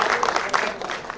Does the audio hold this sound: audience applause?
yes